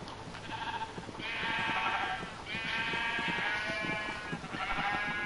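Sheep in the video game Minecraft bleat repeatedly, several wavering calls in a row that are loud and close, with a low rumble of game noise underneath.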